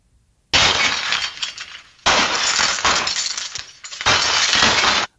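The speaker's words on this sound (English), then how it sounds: "Glass. Shattering." Synthetic glass-shattering effect: three loud, bright crashes of breaking glass, each a dense burst of tinkling shards lasting over a second, separated by brief pauses.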